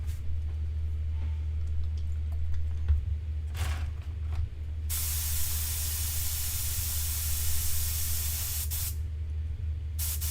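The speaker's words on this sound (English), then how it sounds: "I just wanted to spray really good." Cleaner sprayed in a long, steady hiss while a studio gets a thorough cleaning, the spray close and loud for several seconds over a constant low hum, ending with a short second burst.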